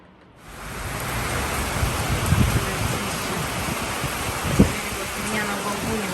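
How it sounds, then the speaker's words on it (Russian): Heavy rain pours steadily during a windstorm in Almaty, a dense continuous hiss with a few low rumbles mixed in. "Сильный дождь."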